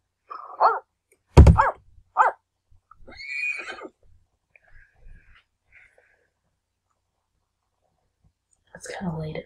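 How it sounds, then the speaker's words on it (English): A wild horse in the Sims 3 Pets video game gives a few short, sharp neighs and whinnies in bursts, along with quieter vocal sounds, with long silent gaps between and a final burst at the end. "I've seen this wild horse in the game before."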